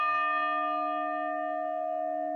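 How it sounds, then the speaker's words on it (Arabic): A single deep church bell tone tolls in mourning and hangs in the air, its steady hum sustained and slowly fading. "قرعت الكنائس أجراس الحزن على أرواح الشهداء"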